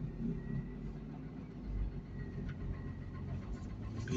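An LRT light rail train passes along a Manila street between Santa Cruz and San Nicolas in Binondo, a steady low rumble mixed with traffic noise and no talking.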